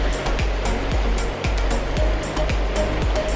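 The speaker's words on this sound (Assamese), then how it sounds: "পানী ফুল স্পীডত বৈ আছে" A river rushes at full speed in Pakke Tiger Reserve, Arunachal Pradesh, making a dense, steady roar of water with faint low thuds under it.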